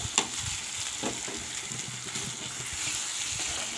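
Onion and dried fish (shutki) for a chutney frying in a pan, a steady close hiss of sizzling oil with occasional soft stirring scrapes throughout, no voices.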